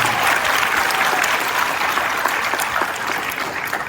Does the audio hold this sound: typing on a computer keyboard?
no